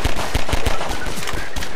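Rapid pistol shots fired in Half-Life 2, about eight loud close cracks in quick irregular succession, with no talking over them.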